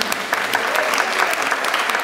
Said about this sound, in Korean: 오늘의 행사를 위해서 다시 한번 큰 박수 보내주시면 감사드리겠습니다